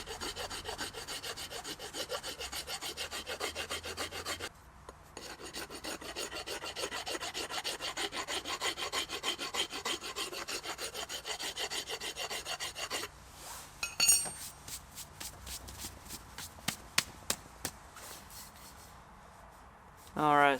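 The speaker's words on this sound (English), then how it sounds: "And then here we are again, just back to our filing" A four-in-hand rasp files a wooden tomahawk handle in long, rhythmic back-and-forth scraping strokes, close and steady, then shorter scattered rasps near the end, with a voice talking over part of it.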